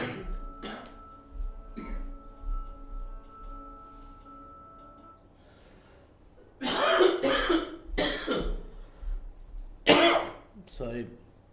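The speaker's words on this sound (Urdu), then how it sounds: "آپ لوگوں کو میری کھانسی بھی برداشت کرنی پڑے گی" A man coughs and clears his throat in several harsh, close bursts during a free online talk in Urdu about making money, after a quieter stretch with faint tonal sounds; the coughs cluster near the end.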